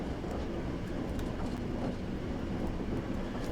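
A moving freight train in the Train Sim World game, shunting at Lackenby Steelworks, gives a steady broadband rumble and rattle that stays even throughout, with no talking.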